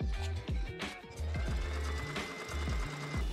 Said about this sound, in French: vous venez coudre les côtés ici et ici